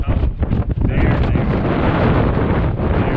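Strong wind blows outdoors beside a canal, roaring steadily and buffeting close against the microphone throughout, with no clear voices.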